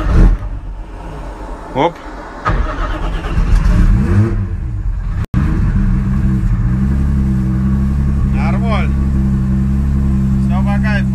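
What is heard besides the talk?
car engine starting and revving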